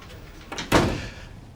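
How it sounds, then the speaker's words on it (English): A door is pushed shut with a single firm thud and a short rattling slam, heard close in a quiet office room. "Shut the door."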